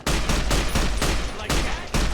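Gunfire in Fallout: New Vegas rings out in loud, close bursts of rapid shots, separated by short pauses over about two seconds.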